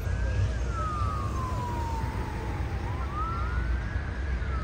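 A police siren wails continuously after an explosion at a cooperative in Palotina, its pitch sweeping slowly down and back up over a loud, rumbling traffic background.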